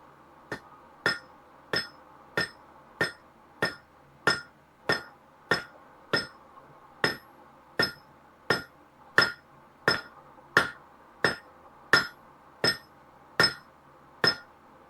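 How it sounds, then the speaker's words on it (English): Hammer blows on hot nails at an anvil, about twenty sharp metallic clinks at a steady, slightly uneven rhythm, close and fairly loud against a quiet background. "I'm hammering them too hard"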